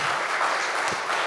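A concert audience applauds the musicians, a brief burst of continuous clapping from the hall.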